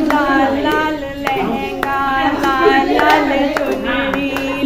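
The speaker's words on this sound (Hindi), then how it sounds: "दोनों हाथ बजाओ ताली, हे माँ दुर्गे आवेगी" Both hands clap in a steady rhythm to a singing voice in a Hindi Durga devotional song, with sharp, loud claps landing regularly under the melody.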